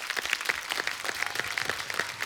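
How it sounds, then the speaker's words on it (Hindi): Studio audience on a TV comedy talk show applauding, a steady, dense patter of clapping that stays fairly soft and even throughout, with no talk over it. "आपके लिए पहले तो तालियां।"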